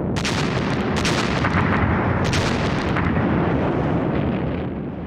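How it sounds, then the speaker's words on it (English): Soviet Red Army artillery bombardment in World War II: dense, continuous booming and crackling blasts, several sharp louder reports rising out of a constant roar, loud throughout and without speech. "Then there was a devastating artillery bombardment."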